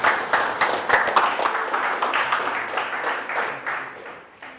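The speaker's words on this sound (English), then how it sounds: "Round of applause." Lively audience applause after a startup pitch at a Startup Week Wisconsin event in Green Bay, close and full at first, then gradually thinning and fading toward the end.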